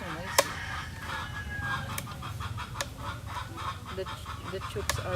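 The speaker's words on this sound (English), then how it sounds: "Oh, that's another chicken again." Chickens in a provincial yard in Tarlac, Philippines, cluck and squawk close by, with a few loud, sharp calls breaking through a busy, continuous clucking chatter.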